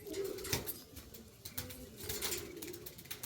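Several household Andhra pigeons coo at midday, low warbling calls rising and falling at a moderate distance among a few soft flutters, with no voices over them.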